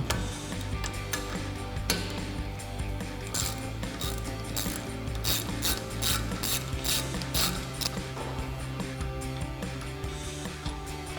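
Rapid clicking of a ratchet as it loosens brake caliper bolts on a 2014-2018 Chevrolet Silverado 1500, a close, continuous ticking of the pawl over faint mechanical background noise.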